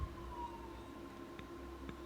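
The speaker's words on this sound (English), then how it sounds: "what is it with this siren?" A faint outdoor siren holds a steady tone in the distance, a thin sustained whine over low background rumble for a couple of seconds.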